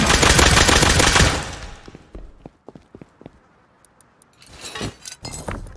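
Gunfire in the video game Rust: a dense, loud burst of rapid automatic shots for about a second, then scattered clicks and metallic clinks, followed by another cluster of sharp shots near the end, no talking.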